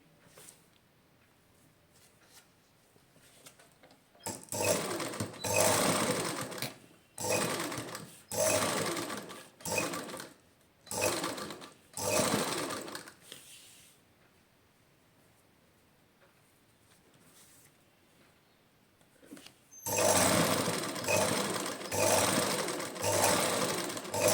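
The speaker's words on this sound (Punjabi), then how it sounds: "ਇਹ ਜਿਹੜੀ ਸਲਾਈ ਆਪਣੀ ਲੱਗੀ ਹੋਈ ਇਹਦੇ ਉੱਪਰ ਉੱਪਰ ਆਪਾਂ ਸਲਾਈ ਲਗਾ ਲੈਣੀ ਹੈ" A sewing machine stitches along lace on cloth in several short runs with brief pauses between them, then one longer run at the end. The machine sounds close and steady, with no voices.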